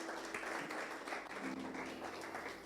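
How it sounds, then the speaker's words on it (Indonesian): A church congregation applauds during a worship service, a dense wash of clapping that holds steady throughout with a faint murmur of voices underneath. "Tepuk tangan dulu buat Tuhan kita"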